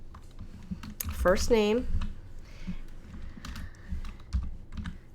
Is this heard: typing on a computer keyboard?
yes